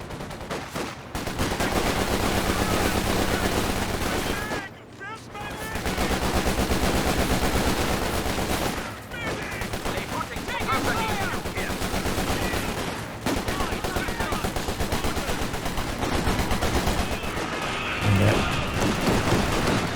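Small arms fire crackles without a break through a Company of Heroes 2 multiplayer battle, layered rifle and machine-gun rattle thick in the mix, with a commentator talking over the clamor.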